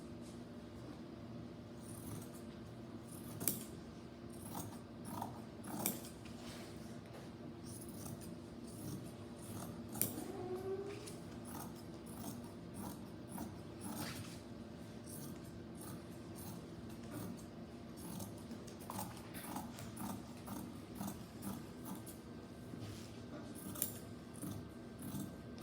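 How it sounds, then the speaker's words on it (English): Fabric shears cutting through fabric along a marked line for a mask, quiet close snips and slides in irregular bursts against a low steady background hum. "shears, my fabric shears, to cut out along the outermost line of both of my pieces"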